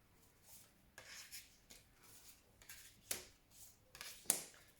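Soft, irregular papery rasps and riffles of cards being shuffled, coming in several short bursts with brief pauses, fairly quiet and close.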